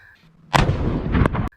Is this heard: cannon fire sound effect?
yes